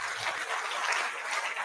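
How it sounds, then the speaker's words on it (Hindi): Dense audience applause, many hands clapping together in a steady, loud, textured patter that holds throughout with no voices. "इस जवाब के लिए जोरदार तालियां"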